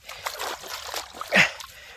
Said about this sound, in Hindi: बहता हुआ पानी नहर का